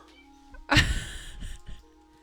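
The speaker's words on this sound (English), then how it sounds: "Did I just have a cat on my head?" A cat meows loudly and close in World of Warcraft, one drawn-out cry followed by two shorter, fainter mews over quiet game ambience.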